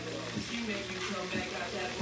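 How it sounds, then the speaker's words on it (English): Oil sizzles and crackles steadily as codfish fries in a pan, a continuous close frying hiss with faint low clatter underneath. "I'm frying some codfish."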